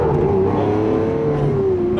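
A Lamborghini Aventador in Corsa mode pulls hard, its engine note climbing loud and close before a gear change briefly dips the pitch, then rising again.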